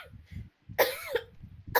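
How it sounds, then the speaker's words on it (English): A woman coughs hard in two loud, close bursts, then starts another at the end, with a low murmur of background noise between them. "She coughing."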